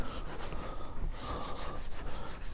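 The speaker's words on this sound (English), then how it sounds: "lightly burnish with my hand" A hand rubs and burnishes freshly glued paper onto board for bookbinding, giving a soft, steady dry rasping that continues evenly throughout, close and fairly quiet with no talk.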